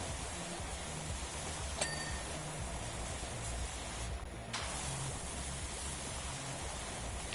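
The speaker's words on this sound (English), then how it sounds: "Let me spray this." Broadband spray of a pressure washer in the Power Wash Simulator 2 game, a steady hiss running almost unbroken with a short dip partway through and a faint ding early on.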